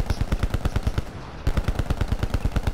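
Rapid machine-gun fire from the Call of Duty video game, a loud, even stream of shots at a fast steady rhythm with a brief gap midway before the burst resumes.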